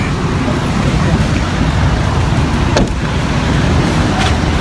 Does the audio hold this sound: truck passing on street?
yes